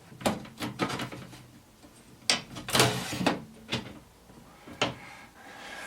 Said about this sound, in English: you just slide the door back